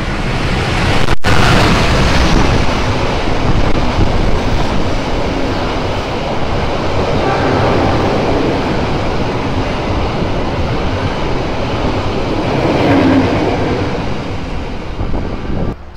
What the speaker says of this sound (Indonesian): kereta api Argo Lawu akan menyusul melintas langsung di stasiun